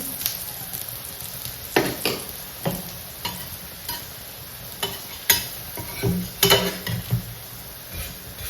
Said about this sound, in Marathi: आता साईडने थोडंसं तेल सोडून मस्त कमी गॅसवर शेकून घ्यायचं दोन्ही साईडने